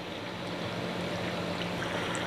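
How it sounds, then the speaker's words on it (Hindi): Mutton frying in oil in a karahi gives a steady, dense sizzle with no breaks, close and fairly loud throughout. "तो अब हमने मटन ऐड कर लिया, इसको अच्छी तरह करना हमने फ्राई।"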